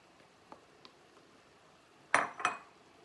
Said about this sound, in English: I'm gonna add the tomatoes. In here I have sweet pepper, onion and scallion.